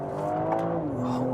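A BMW M3 in sport mode accelerates hard with the pedal pressed down, a steady engine note rising and then dropping in pitch over a short burst, heard from inside the car.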